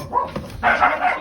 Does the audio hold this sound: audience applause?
no